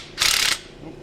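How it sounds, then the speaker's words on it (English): A ratchet wrench loosens a brake line nut on a Jeep, giving one quick, close burst of rapid clicking that lasts about a third of a second. "I'm taking this brake line off right now."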